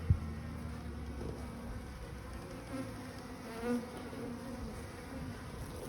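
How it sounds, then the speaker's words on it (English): Honey bees buzz in an opened hive, a soft, continuous low drone heard close and alone, with a few faint thumps and no talking. "I'm seeing a few more bees"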